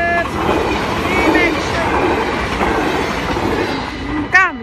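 A train passes through Nieuwstadt with a loud, steady rumble of rolling wheels and rail noise, some faint squeals, and a brief sharp horn toot near the end.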